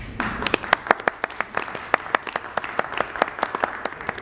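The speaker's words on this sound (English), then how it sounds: "You're allowed to clap at that." Scattered audience clapping at a Kubernetes conference talk, a modest number of distinct claps in an uneven, moderately loud rhythm with no voices over it.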